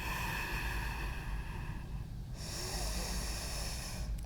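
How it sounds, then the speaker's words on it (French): Slow, steady breathing through the nose during a yoga session, close and soft, with a continuous airy rush and a brief pause partway through. "Et ici, on va respirer par le nez."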